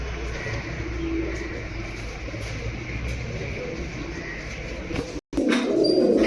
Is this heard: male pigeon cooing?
yes